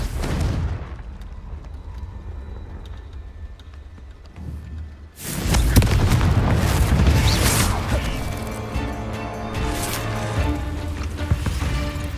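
A Confringo fire-blast spell cast in the Hogwarts Legacy video game sets off a loud, booming explosion with crackling debris after a quieter stretch, followed by a dense, rumbling roar of effects and music.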